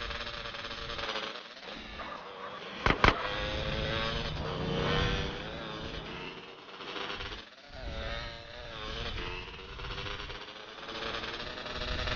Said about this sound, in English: Carl, you drive, I'll shoot.